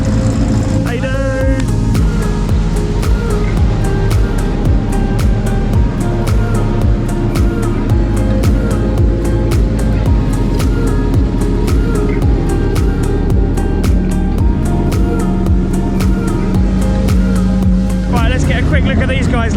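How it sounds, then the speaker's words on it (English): Thousand-horsepower drift cars at a Drift Masters event in Finland launch off the start line with loud, sustained engine roar and rising revs, close and continuous, while people talk over the noise throughout. "Look at these guys leaving the start line."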